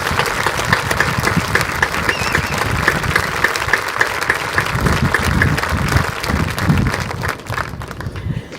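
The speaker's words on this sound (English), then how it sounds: "let's give the top 100 recipients one last round of applause" Sustained applause from a large audience at an awards ceremony, loud and steady, tapering off near the end.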